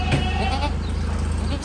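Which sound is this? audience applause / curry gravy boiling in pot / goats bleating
goats bleating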